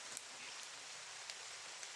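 Heavy rain falling on a mountainside, a steady broad hiss of drops with a few sharper taps, faint and continuous with no voices.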